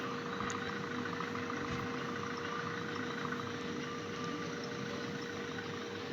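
Tractor engine in a farming simulator mobile game, a steady, low idling drone with a faint mechanical hum that holds unchanged throughout, quiet and without any voices.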